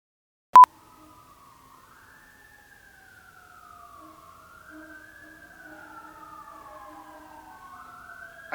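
Fire truck sirens wail and sweep up and down near a car-building shop, several overlapping and swelling gradually louder as they approach, after a sharp click at the start.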